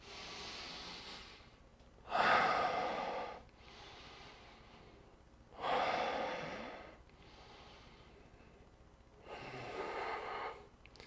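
Slow, deep yoga breaths: three long inhalations spaced several seconds apart, close and airy, with quiet pauses in between and no talking.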